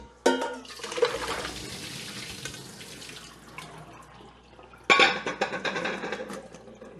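Water from boiled potatoes pours and drains through a strainer into a sink, a sudden rush that trickles down, then a second loud splashing gush, all close by.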